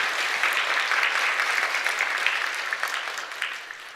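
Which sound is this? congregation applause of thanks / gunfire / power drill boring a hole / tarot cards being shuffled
congregation applause of thanks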